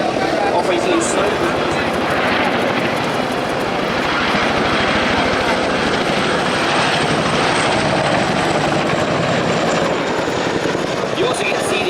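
Chinook twin-rotor military helicopter flying at Duxford Air Festival, a loud, continuous heavy rotor thump and engine roar throughout, with a voice speaking over it.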